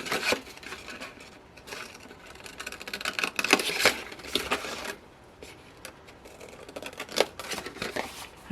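Scissors snip through card while trimming corners for a handmade stamped gift basket, a run of short crisp cuts in bursts with pauses between them, close and fairly quiet with no talk.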